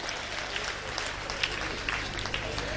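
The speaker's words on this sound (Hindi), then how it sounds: "ताली वाली भी बजाओगे।" Audience applause from a crowd at a live rural Hindi comedy performance, a steady dense patter of clapping filling the whole stretch at moderate level.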